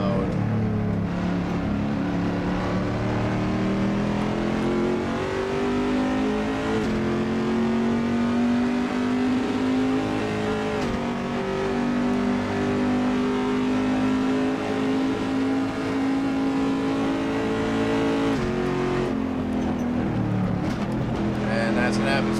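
Corvette race car engine in the Assetto Corsa racing game, droning loudly and continuously as it revs up and down through gears, with a voice talking over it at times.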